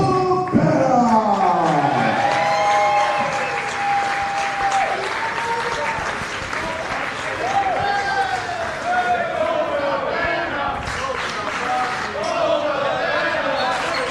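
A wrestling crowd applauds and cheers throughout Colt Cabana's entrance, a dense, sustained roar with a commentator's voice talking over it.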